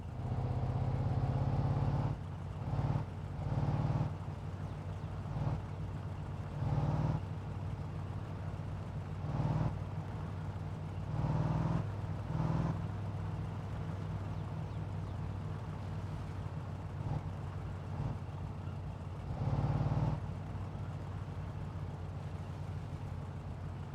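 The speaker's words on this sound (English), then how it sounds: "It's going to get overridden by the sound of the engine." A muscle car engine in the video game My Summer Car drones and surges in repeated bursts of revving, fairly quiet and steady, with no talking.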